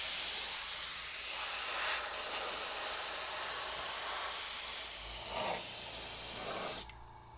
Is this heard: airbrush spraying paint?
yes